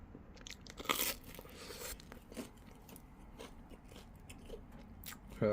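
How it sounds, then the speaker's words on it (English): Close, quiet crunching bites into a hot Detroit-style deep dish meat pizza with a crispy crust, several sharp crunches followed by softer chewing, with no talk. "Crunch."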